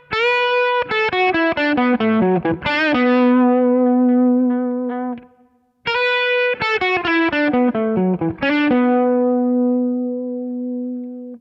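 An electric guitar plays a bluesy jazz fusion phrase, two fast melodic runs, each settling onto a long sustained note, with a brief pause between them.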